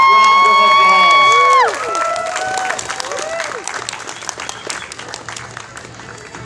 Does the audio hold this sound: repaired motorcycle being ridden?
no